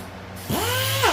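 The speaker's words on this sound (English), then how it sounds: "The DEA is a random orbital sander" An air-powered random orbital sander used in bodywork on an El Camino starts up close and loud, its whine rising quickly and then holding a steady, slightly wavering pitch.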